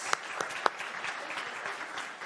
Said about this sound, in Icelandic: við ætlum að gefa ykkur gott klapp fyrir að skipuleggja þetta svona vel